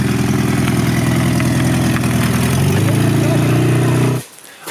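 A BMW E46 drift car engine runs steadily and loud at close range during a gearbox test, a deep idling drone with a shift in pitch partway through, then cutting off abruptly near the end.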